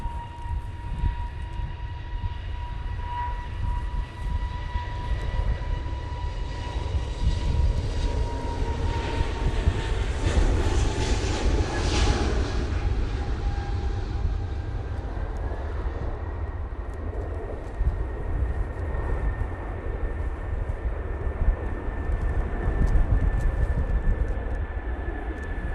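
An Aer Lingus airliner lands in strong wind at Manchester Airport, its engine roar building to a loud peak, then a long, steady rumble and whine as it rolls out, with gusty wind noise throughout.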